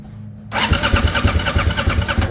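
A 2001 Suzuki TL1000R motorcycle engine cranks over after a brief quiet moment, its starter churning in a loud, steady rhythmic chug that never catches. No one speaks.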